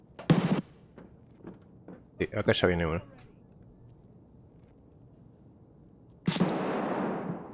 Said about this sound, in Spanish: vamos a ver si escuchamos tiros por ahí